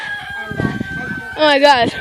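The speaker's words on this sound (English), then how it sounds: "I caught a chicken!" A caught chicken squawks loudly in a rising burst of harsh, harmonic calls near the end, following excited speech and a few thumps close to the mic.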